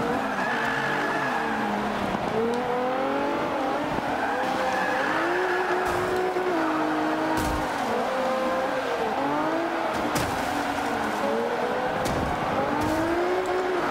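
Race cars roar around a track in Forza Motorsport 5, engines climbing and dropping through gear changes, with tires squealing and skidding through corners, loud and continuous with no talk.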